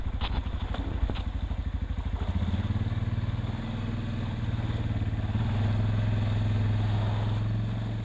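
A quad bike engine climbing uphill, loud and close, its pulsing low chug rising and settling as the throttle changes, with a few clunks near the start.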